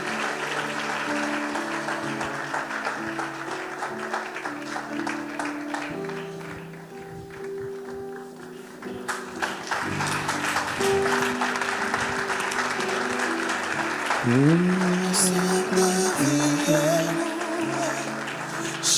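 A church congregation applauds at a French-language worship service, with dense continuous clapping throughout, swelling louder partway through, while organ or keyboard chords play underneath and cheers rise near the end.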